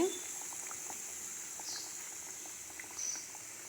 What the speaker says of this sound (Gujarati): 3 થી 4 મિનિટ આપણે આ બિસ્કિટ ફ્રાય કરીએ તે થઈ ગયા છે.